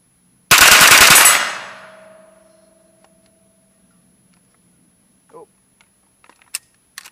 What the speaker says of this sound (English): Let's see if we can get a little bit more of a clear pattern with this Slidefire stock on the 9mm carbine.